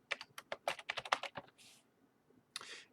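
Typing a search on a computer keyboard: a quick run of a dozen or so close, crisp key clicks, a pause, then a brief final rattle of keys.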